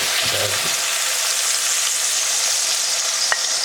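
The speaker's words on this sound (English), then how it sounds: "We just fried okra basically. Add chili. Onions are slightly translucent." Okra frying in a pan with chili and onions gives a steady, loud sizzle throughout, with a few soft stirring knocks near the start and one sharp clink late on.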